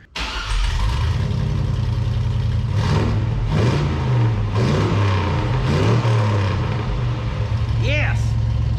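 A 1961 Chevy wagon engine, its mufflers blown out, starts up and runs loud and close, revving and settling in uneven surges while a person talks nearby.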